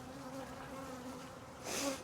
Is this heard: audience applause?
no